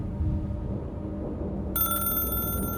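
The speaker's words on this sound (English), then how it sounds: "The landline phone began to ring without warning, shaking us from our stupor." Landline telephone starting to ring during a rainstorm, a bright trilling bell cutting in partway through over a constant low rumble of heavy rain.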